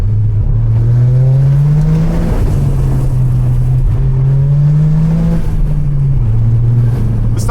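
A Toyota GR Corolla with stock suspension tears along a dirt road, its engine loud and close, rising in pitch through the gears with brief dips at each shift, under a steady roar of wind and gravel.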